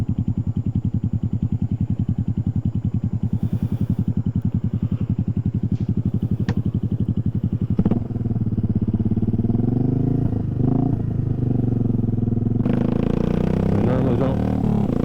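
Suzuki S40 Boulevard motorcycle riding at night, its single-cylinder engine thumping steadily and loud up close, then shifting pitch as the rider slows and accelerates through a corner, with wind noise near the end.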